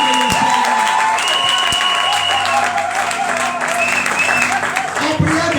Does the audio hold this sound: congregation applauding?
yes